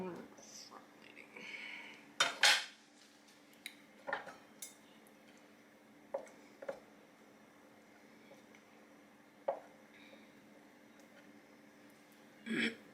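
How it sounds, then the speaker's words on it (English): A knife chops feta cheese on a board during kitchen meal prep, giving a few scattered, soft knocks spaced several seconds apart, with quiet clatter and low talk in the background. "And then chop it up."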